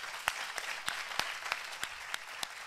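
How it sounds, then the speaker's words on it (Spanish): Applause from the audience at the closing and awards ceremony of the T3chFest 2016 technology festival, a steady even clapping that holds throughout with a few louder individual claps standing out. "Fuerte aplauso."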